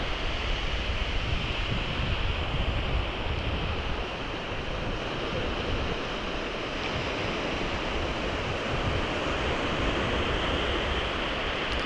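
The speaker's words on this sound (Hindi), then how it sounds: "समंदर की लहरों की आवाज़ आ रही है" Sea waves wash steadily onto an uncrowded beach at sunset, a continuous loud roar of surf with wind rushing over the microphone and no pauses or voices.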